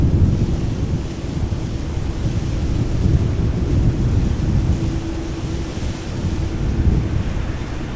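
A Ryanair jet airliner at Amsterdam Schiphol Airport roars as a loud, continuous low rumble, wind-buffeted and steady across the whole stretch.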